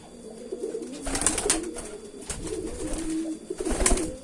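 Domestic racing pigeons, a pair of male birds sharing a nest, coo softly and repeatedly nearby in a few low, rolling phrases with no talking.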